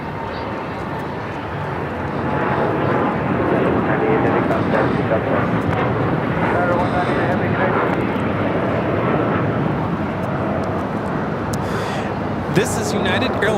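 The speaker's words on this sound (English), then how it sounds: "This is United Airlines 198 taking off to Shanghai on the 787-9 Dreamliner." A United Airlines Boeing 787-9 Dreamliner takes off from LAX, its broad jet roar steady and fairly loud at a distance over crowd murmur from spectators at a hilltop spotting spot.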